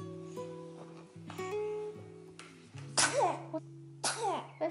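A five-week-old newborn makes a couple of small, sharp sneezes close by, amid soft fussing sounds and a quiet background hum.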